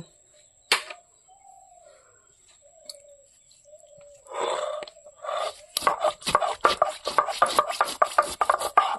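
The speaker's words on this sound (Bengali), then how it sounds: "গরম মশলাটা বেটে নেব।" Garam masala being ground by hand on a grinding stone while mutton curry is prepared village style: a quick, steady run of rasping scrapes fills the second half, with scattered bird chirps and quiet rubbing before it.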